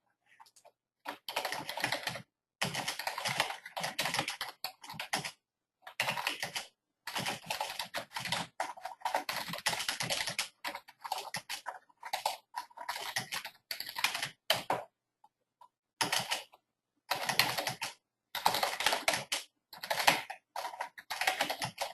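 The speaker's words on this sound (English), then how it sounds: "I'm just going to type a message if you can bear with me for 1 sec" Rapid bursts of typing on a computer keyboard, clicking keys in quick irregular runs separated by short pauses, close and fairly quiet with no voices.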